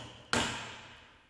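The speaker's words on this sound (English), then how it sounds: "Now hammer in the safety tightening bolts." A single sharp hammer strike drives a safety tightening bolt into a metal damper JK-A-02 B, a crisp close impact ringing briefly and fading away alone.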